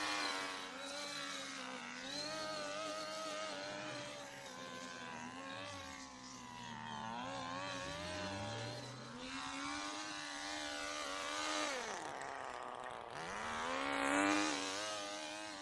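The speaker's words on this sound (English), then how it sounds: "So we'll start off with the string trimming." A small petrol string trimmer runs around a farmhouse property, its whiny two-stroke engine rising and falling as the throttle is worked, steady and nearby with no talk.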